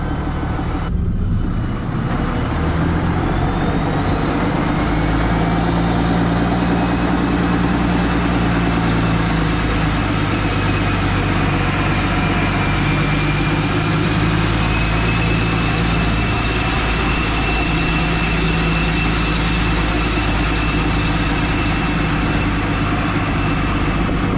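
A Cummins 5.9 12-valve diesel with a VGT turbo idles close to its exhaust, giving a steady deep rumble and low throb. A faint turbo whistle rides on top, and the sound holds constant throughout with no talk.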